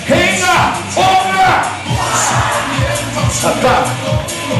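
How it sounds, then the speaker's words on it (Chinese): An audience cheers and applauds at an evening stage show at Blk 222 Ang Mo Kio Avenue 1, with a loud, continuous crowd roar and whoops and an amplified host's voice speaking over it throughout. "我看哪边的掌声比较多"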